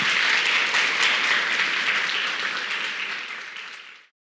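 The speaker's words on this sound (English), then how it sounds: "A round of applause for our panelists," Full audience applause for a Mother's Day panel, a dense wash of clapping that holds steady and then thins and fades out near the end.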